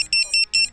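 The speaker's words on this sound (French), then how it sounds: "le beeper fonctionne" A Vifly Finder 2 standalone drone beeper buzzer, fitted to a Sector 5 V3, sounds loud shrill electronic beeps in a quick rhythmic pattern of about six pulses up close.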